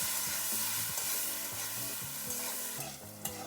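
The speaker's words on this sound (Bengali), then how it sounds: "লবণ আর সামান্য একটু হলুদ গুঁড়ি দিয়ে ভালো করে একটু ভেজে নেব" Potatoes fry in oil with salt and turmeric for a Bengali long beans curry, a close sizzle under rhythmic stirring and clinking of a spatula against the pan, fairly quiet with no talk.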